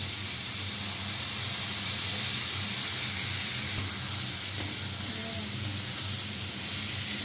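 Mustard paste sizzles and hisses steadily in a hot pan while chorchori, a Bengali vegetable dish, cooks, a continuous close frying hiss with no talking.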